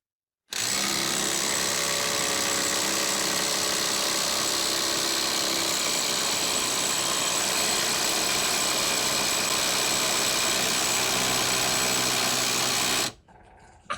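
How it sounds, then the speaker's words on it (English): A Ryobi compact brushless impact wrench tightening a nut, running as one continuous loud buzzing whir for about twelve seconds before stopping abruptly, close up with no talk. "I'm going to use this new Ryobi compact brushless impact wrench to tighten it up to around 1500 PSI"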